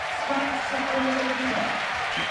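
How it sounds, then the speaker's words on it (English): Crowd at a climbing World Cup bouldering final in Meiringen, cheering and clapping in a steady, loud wash throughout, with a commentator's voice running over it. "The crowd goes wild for her."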